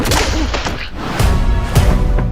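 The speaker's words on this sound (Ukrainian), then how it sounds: "Дай мені ляпаси." A sharp slap sound effect from the animated Garfield movie, landing as a loud, crisp smack within a dense cinematic mix.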